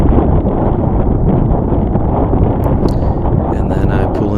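Strong wind buffets the microphone on a sailboat, producing a steady, loud roar with rustling gusts that never let up.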